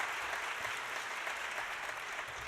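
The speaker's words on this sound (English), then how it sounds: "Yes, please give me a big round of applause." An audience at an Armenian Genocide commemorative event claps for the keynote speaker, a quiet, even wash of many hands heard from a distance that continues steadily throughout.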